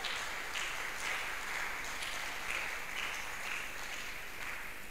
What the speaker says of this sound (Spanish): fuerte el aplauso al Señor